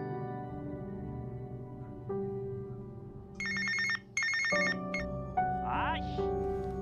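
A mobile phone rings with an incoming call in a Korean drama scene. The electronic ringtone plays a melodic pattern of repeating tones, layered over background music.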